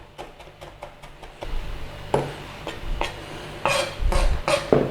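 A knife minces ingredients by hand for braised Thai-style pork leg, giving a run of quick, close taps on a board that give way to heavier, louder chops and scraping knocks with no talk.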